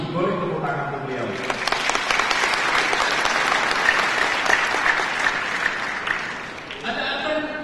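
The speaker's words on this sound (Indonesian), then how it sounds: "Boleh tepuk tangan untuk beliau." Sustained audience applause at an Indonesian ICT awards ceremony honoring Professor Habibie, a dense wash of many clapping hands lasting several seconds, with voices audible at the start and end.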